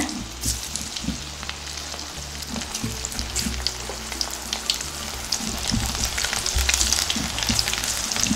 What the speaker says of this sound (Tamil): இப்போ நம்ம எண்ணெயில் பொரிச்சு எடுத்துக்கலாங்க